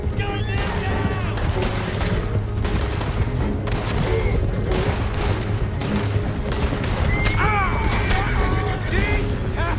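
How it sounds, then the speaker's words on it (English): Rapid gunfire rattles through a stagecoach holdup in Red Dead Redemption 2, loud overlapping shots and booms crowding the whole stretch, with shouting voices and chirping whistles mixed in. "Gun them down!"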